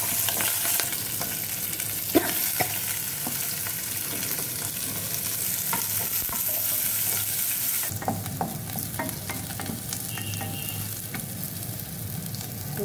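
Dried red chillies, curry leaves and green chillies fry in hot oil, giving a loud, continuous sizzle broken by the scrapes and clicks of stirring, with no talk.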